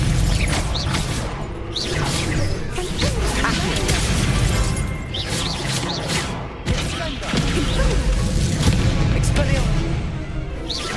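Confringo blasting spell cast in Hogwarts Legacy, a string of loud booming, crashing blasts over dense, busy combat noise, with speech drifting in and out underneath.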